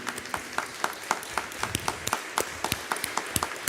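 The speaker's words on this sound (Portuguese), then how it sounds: "E agora uma salva de palmas para São Pedro." A church congregation applauds Saint Peter during a Mass with Padre Mário Sartori, a light, scattered round of claps in an irregular rhythm, moderately distant and fairly quiet.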